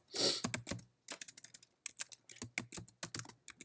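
Quick, uneven typing on a slim, compact 61-key computer keyboard, crisp individual keystrokes in short bursts with brief pauses, close and clear in a quiet room.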